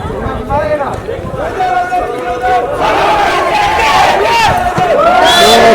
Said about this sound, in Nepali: हुटिङ भइरहेको छ